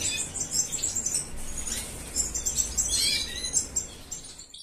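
European goldfinch chick and parent birds in captive breeding, a first clutch, giving busy high-pitched chirps and tweets close by, with soft rustling and fluttering mixed in.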